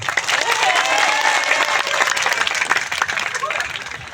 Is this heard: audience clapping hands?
yes